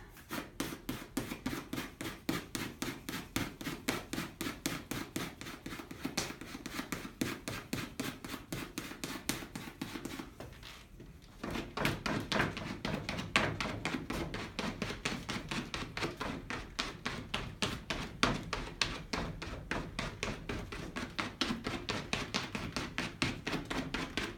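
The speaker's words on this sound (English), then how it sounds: "So I pick up a little bit of ink and distribute it" Ink balls slap and rub against the type on a colonial-style hand printing press in a fast, steady patter of dull taps. The taps pause briefly near the middle, then resume.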